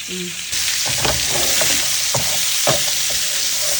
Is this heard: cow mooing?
no